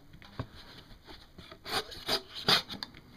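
A SOG Fixation Bowie knife slicing through heavy cardboard with its factory edge, giving a series of short rasping cuts that grow louder toward the end, close up with no talking.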